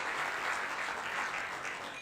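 Audience at a live cybersecurity startup pitch competition applauding the lead sponsor, a steady wash of many hands clapping at moderate distance, sustained evenly for the full stretch with no talk.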